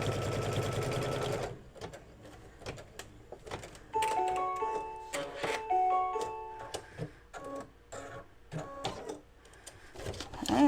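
An embroidery machine stitching down a fabric square for an in-the-hoop mug rug, running in a steady rapid mechanical tick with whirring tonal motor hums, close and moderately loud, starting after a short burst of noise.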